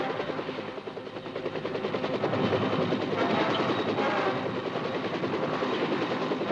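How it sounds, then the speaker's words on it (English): Huey gunship helicopters giving air support to ground troops, a loud, steady rotor chop that swells and stays near, with no voices over it. "Air support of American ground troops and the use of high-speed Huey gunships impresses the enemy clearly with the meaning of air cavalry."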